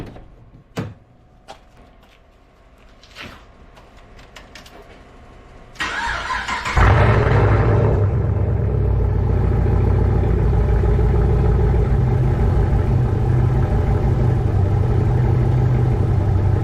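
A 2010 Camaro SS with the L99 V8 and a fitted oil catch can cranks and fires after a few faint clicks and knocks, then settles into a steady, loud, close idle.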